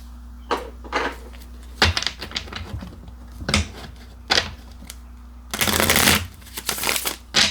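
Tarot cards are shuffled and handled in a series of sharp, irregular riffles and slaps, close to the microphone, with one longer shuffling burst near the end.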